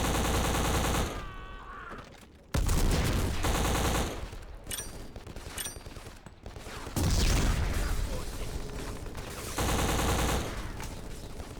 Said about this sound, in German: dieses Sounddesign der Waffen